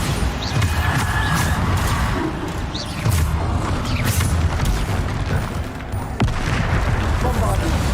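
Repeated spell explosions in Hogwarts Legacy pound one after another in a busy fight, each a loud booming crash with sharp hits between them, and voices come through faintly.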